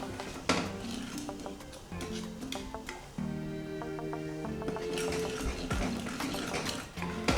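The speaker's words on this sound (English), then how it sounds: "So now I'm going to stir that with my spoon" A spoon stirs milk and sugar in a pot, producing repeated metallic clinks and scrapes against the sides at an uneven pace, fairly close and quiet with no talking.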